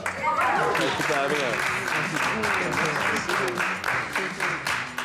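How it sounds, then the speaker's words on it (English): A studio audience gives the judges a round of applause, dense continuous clapping and a few cheers that hold steady for several seconds, with a presenter's voice briefly heard over it. "A big round of applause for our judges, Roger and John Smith."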